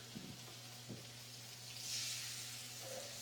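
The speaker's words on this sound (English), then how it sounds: "you hear that nice sear." Seasoned food sears in a hot pan, giving a faint, steady sizzle and hiss under a low background hum, with a couple of soft knocks early on.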